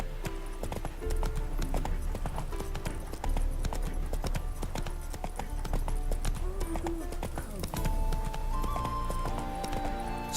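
Roach the horse galloping in The Witcher 3, with steady clip-clop hoofbeats running continuously over a layer of game music and ambience, and a brief whinny-like tone partway through.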